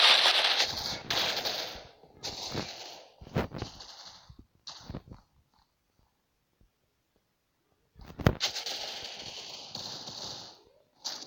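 Gunfire in the mobile shooter Critical Ops, bursts of rapid shots in two clusters separated by a few seconds of near silence, close and fairly loud.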